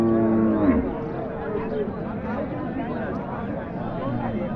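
At a bustling cattle market in Naogaon, a Sahiwal cow gives a loud nearby moo at the start, then the sound falls back into a dense crowd murmur of voices and movement.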